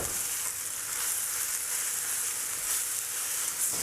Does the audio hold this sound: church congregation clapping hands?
no